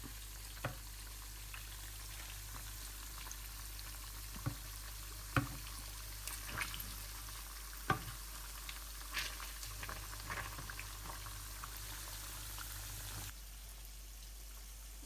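Cubes of paneer for paneer 65 frying in hot oil in a pan, a steady soft sizzle and bubbling throughout with occasional louder pops and clicks of the pieces being gently turned, no talking.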